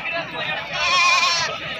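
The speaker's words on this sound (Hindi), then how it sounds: "वो बकरा सामने लैके आ रही है" Goat bleating amid a busy goat market, a drawn-out wavering cry close by over a background of crowd chatter.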